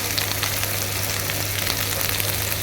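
Okra slices frying in a pan, lightly salted: a steady, dense sizzle crackling evenly throughout at close range, with a faint low hum underneath and no voices.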